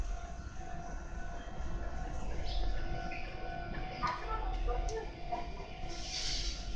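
A Meitetsu train hums and rumbles at a platform at Kasamatsu Station, Japan, with a steady low drone, a few brief tones and clanks rising over it, and faint station noise and announcements around.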